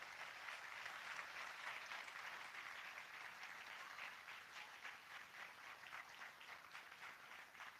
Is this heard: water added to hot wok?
no